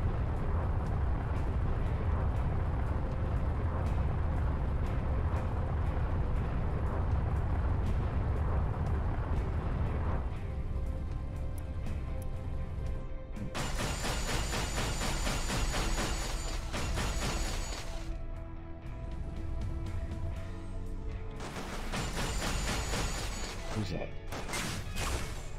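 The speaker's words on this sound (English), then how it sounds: "Accidentally launched the missile at him" A video-game missile launch and explosion, a loud roaring blast that rumbles and decays over several seconds, followed by dense game sound effects and music.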